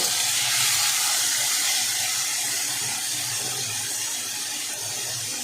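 Cut potatoes fry in a pan, giving a steady bright sizzle and hiss that holds at an even level throughout, close by and with no talk.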